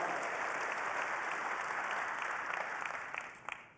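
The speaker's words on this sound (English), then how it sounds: "Big round of applause for Patrick." Keynote audience at a Cisco Live conference in Las Vegas applauding, a broad continuous wash of clapping from a large crowd that thins and fades into scattered claps at the end.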